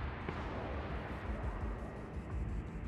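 Mortar artillery fire in the video game Broken Arrow, a dense, continuous rumble of booming low-end blasts that roll together without clear gaps, loud and close throughout.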